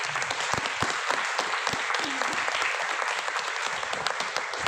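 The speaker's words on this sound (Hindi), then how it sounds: "एक बार जोरदार तालियां चाहूँगी हमारे टीसी सर जी के लिए" An audience claps loudly and steadily at a business event, honoring the man who designed the business plan; dense, sustained applause with a few sharper individual claps throughout.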